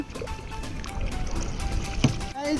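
A rowing or motor boat moving on water in the Sunamganj wetlands near the India border, with steady water wash and splashing close by under continuous talk.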